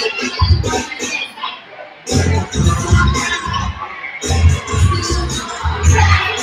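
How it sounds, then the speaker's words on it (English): Loud arena crowd at a Howard University men's basketball game against Washington Adventist, with bursts of cheering and clapping in two main swells separated by a brief lull. "Let's give Mason a round of applause for trying."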